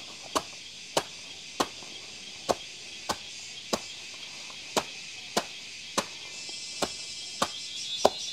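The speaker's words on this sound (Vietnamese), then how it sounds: "Nhưng mà cũng không có máy rau lợn băm cho nên là bà phải băm rất là từ từ." An elderly woman slowly chops pig-feed vegetables by hand, about fourteen sharp, evenly spaced blade strikes against a board, each a distinct crack, with faint insect chirping in the quiet background.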